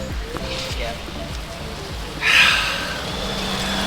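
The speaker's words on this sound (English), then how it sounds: "now it's full on raining." Heavy rain pours outdoors on a trip in Denmark, a steady hiss of falling water with a louder gush midway, while people talk nearby.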